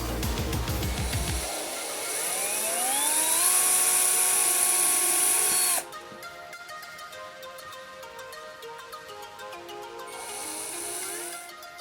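A small high-pitched drill with a 2.2 mm bit whines steadily boring a hole for a small motor shaft, its pitch sliding as it bites, then drops to a quieter buzzing run before revving up again near the end.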